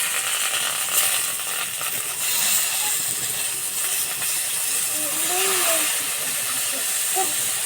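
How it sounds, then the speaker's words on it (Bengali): Whole garlic cloves, eggplant and tomato sizzle in hot oil, a loud continuous hiss and crackle with a few brief clinks, and a voice speaks faintly over it. "তেলে দেবো গোটা রসুন আর বেগুন দিয়ে দেবো।"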